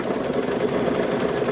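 A sewing machine stitches eyes onto stuffed bear fabric, running as a steady, close, whirring hum with a fast, even stitching pulse throughout and no talking.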